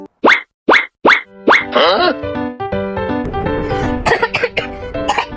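Four short, sharp coughs from a child come in a quick series, followed by voiced, tonal sounds that carry on until the end.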